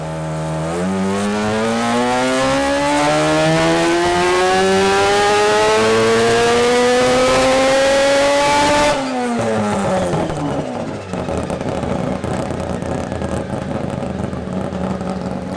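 A billet four-rotor rotary engine being tuned revs hard and loud, its harsh, buzzing pitch climbing steadily. It then drops sharply and settles into a rough, popping idle.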